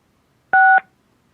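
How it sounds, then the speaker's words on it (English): Telephone keypad tones sound as a caller presses star six on a public meeting call line, a single short, clean dual-tone beep lasting about a quarter second against silence. "if you could please press *6 when it is your turn to speak"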